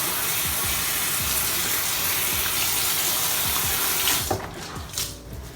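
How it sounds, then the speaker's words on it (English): Hot tap water runs steadily into a sink, splashing and hissing, then the flow breaks up and becomes uneven near the end. "So I'm just gonna rinse my towel out with hot water again."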